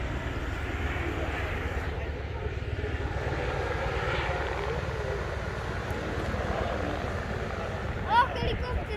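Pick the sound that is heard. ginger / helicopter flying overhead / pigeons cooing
helicopter flying overhead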